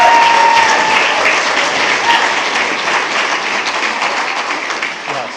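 Sustained applause from the audience at a school board meeting after an award presentation, loud at first and gradually tapering off over several seconds, with no talking over it.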